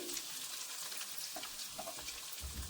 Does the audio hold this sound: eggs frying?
yes